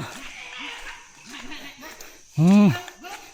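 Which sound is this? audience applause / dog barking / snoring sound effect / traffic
dog barking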